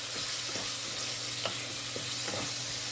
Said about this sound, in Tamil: இதோட தக்காளி கொஞ்சம் மசிஞ்சு வர வரைக்கும் வதக்கி விட்டுக்குவோம்